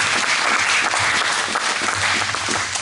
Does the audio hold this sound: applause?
yes